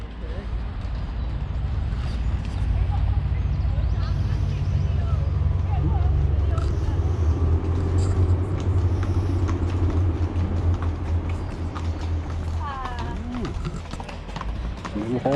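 Horses clip-clopping past on a UK road, a steady run of hoofbeats nearby over a constant low engine rumble from a stopped van, with voices talking throughout.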